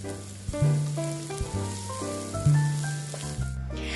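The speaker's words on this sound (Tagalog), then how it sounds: "Add lang natin ang ating chopped onion and saute until translucent." Chopped onion sizzles in a pan while sautéing for butter garlic chicken wings, a steady close crackling fry with a background music melody playing over it.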